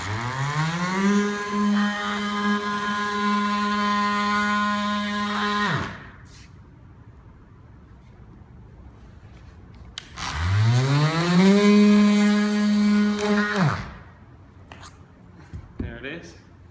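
A Milwaukee oscillating multi tool cuts through windshield urethane in two loud bursts of steady buzzing, each about four to six seconds long, with a quieter pause between them and a brief knock at the end.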